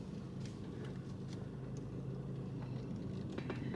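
Steady engine rumble from inside a truck riding over rough ground, a low, constant drone with occasional faint rattles and bumps, no talking.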